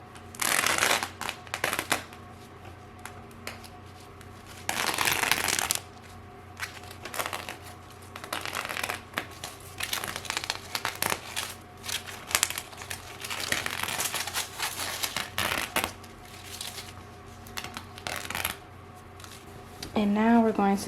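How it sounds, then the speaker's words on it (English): Glitter heat transfer vinyl being peeled and torn away from an embroidered design, giving repeated close crinkling, ripping bursts across the clip, with talking in the background. "the last step is to tear away the vinyl"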